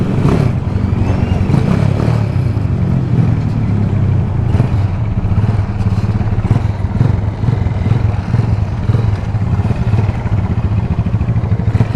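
A BMW motorcycle engine revs steadily on back streets, a loud, close, continuous mid-pitched roar with rough clattering texture and no break for the full length.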